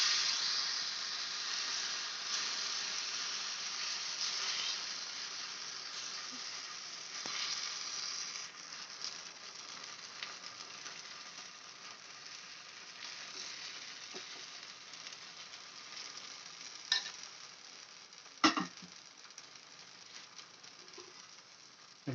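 A street-style snack frying in oil in a pan, with a steady bright sizzle and bubbling that runs throughout, plus a few sharp clicks and taps near the end, no talking.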